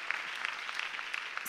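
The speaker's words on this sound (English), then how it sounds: "Let's clap for Jesus." Congregation at a church testimony service applauding together, a steady wash of many hands clapping at moderate distance with no voices on top.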